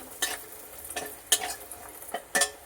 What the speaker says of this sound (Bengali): বড়িটাকে একটু লাল লাল করে ভেজে নিই।